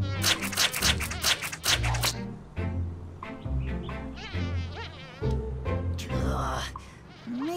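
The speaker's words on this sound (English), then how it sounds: "Shoo, fly! Don't make me go all spider on you." A cartoon housefly buzzes in loud, wavering whines that rise and fall as it darts around close by, mixed with voices speaking over it.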